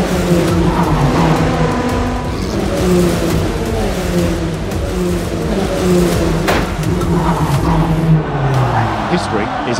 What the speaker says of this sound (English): We go racing, and a good getaway is made by Olivieri.